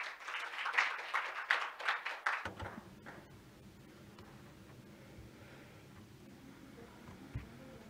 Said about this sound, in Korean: 환영의 박수 부탁드리겠습니다